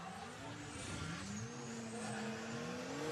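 A drift car at a UK pro drift battle slides into gravel and tyres, its engine screaming in rising and falling sweeps with tyre squeal, heard from a distance and fairly faint.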